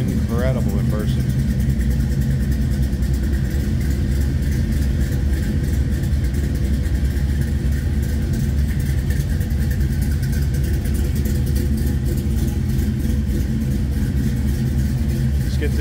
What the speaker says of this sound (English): Those are Flowmasters. You can definitely tell by the sound.